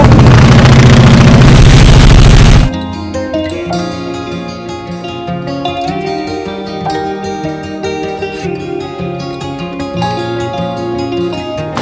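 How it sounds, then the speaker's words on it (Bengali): A trawler's engine drones steadily on a rough-water crossing toward Sonadia Island, Moheshkhali. A loud burst of noise comes first, then the constant motor hum continues under music. "বন্ধুরা অবশেষে আমাদের ট্রলার ছেড়েছে।"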